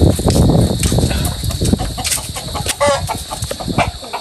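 Chickens cluck and squawk in short scattered calls on a rural Philippine farm, with a busy, noisy backdrop and a steady high-pitched hiss.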